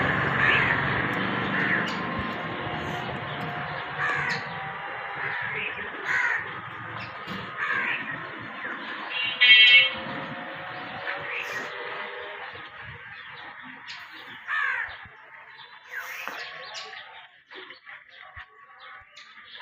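Crows caw repeatedly outdoors, harsh calls arriving in irregular bursts, some near and loud, others faint, over a quiet background that thins out toward the end.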